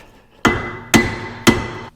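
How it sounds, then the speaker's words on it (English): Three loud, evenly spaced hammer blows land on a car brake rotor through a block of wood during a forged big brake kit install, each strike giving a sharp crack with a brief metallic ring. "So we're gonna use Thor's hammer and a piece of wood"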